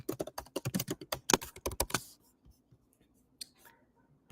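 Quick bursts of typing on a computer keyboard rattle along for about two seconds, then stop, leaving only a few faint clicks in a quiet room.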